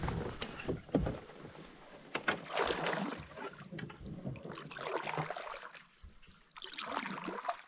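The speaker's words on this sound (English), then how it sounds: "Paddling the great flooded forest." A canoe paddled through a flooded forest on a fall Boundary Waters trip near Kawishiwi Lake, with close paddle swishes, drips and trickling water in a continuous, gently rising and falling wash.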